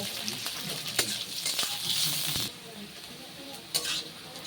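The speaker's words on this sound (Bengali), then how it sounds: "এবার এর মধ্যে দিয়ে দিচ্ছি কুচানো পেঁয়াজ। পেঁয়াজটা দিয়ে একটু লাল লাল করে ভেজে নেব।" Chopped onions frying in a pan for mutton paya gravy, an even sizzle with spoon scrapes and taps against the metal, close and continuous, no talk.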